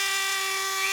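A Dremel rotary tool, faulty and cutting out, whines briefly at a high steady pitch, loud and close, with no talking.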